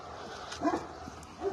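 Dogs give a few short yipping barks at a house with a pond, moderately close, amid quiet background noise.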